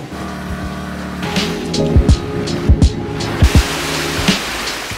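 A boat engine drones steadily while sea water splashes and slaps against the hull, with several sharp thumps as the hull hits waves, on a ride to Gili Trawangan, Indonesia.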